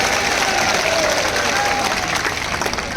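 Dense applause from a large crowd at a political rally, a steady, loud wash of clapping filling the whole stretch with a faint murmur of voices underneath.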